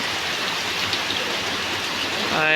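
Steady, dense patter of rain falling all around, close and even, with no voices, in Jessore, Bangladesh.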